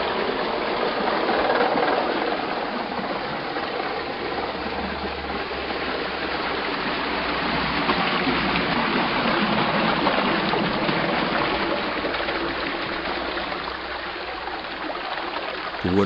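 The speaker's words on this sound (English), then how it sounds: "When the gates are open, the water pours in." A constant rushing of water pouring into a canal lock steadily throughout, a broad roaring wash that never lets up, with no voices.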